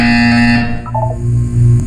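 A loud electronic buzzer from the Portal 2 video game sounds in steady tones. Its pitch drops partway through, and short beeps follow at the end.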